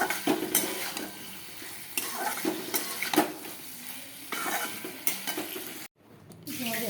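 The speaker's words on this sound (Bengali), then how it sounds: "চিংড়ি মাছ দিয়ে এখন একটু ভালো করে নাড়াচাড়া করবো।" A spoon stirs prawns with potatoes and pointed gourd in a sizzling frying pan, scraping and clinking against the metal in uneven strokes over a steady fry, close up with no speech, briefly cut out near the end.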